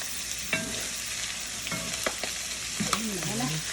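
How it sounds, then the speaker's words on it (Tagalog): Sisig frying in a pan while being stirred, a constant loud sizzle with scattered scrapes and clacks of the utensil, and faint voices in the background. "Kailangan halo, kasi masusunog"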